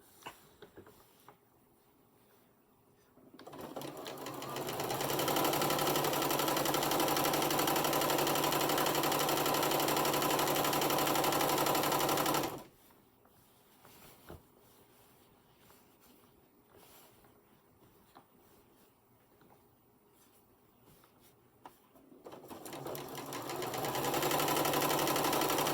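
A sewing machine stitches the last seam of a quilt in two long, steady runs of rapid mechanical whirring, close and even, separated by a quiet pause.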